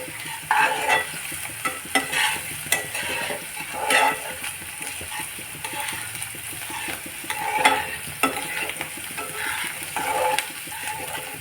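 Food fries in a pan as it is stirred until red, with a close, constant sizzle and regular scraping of a spoon across the pan, without any voices.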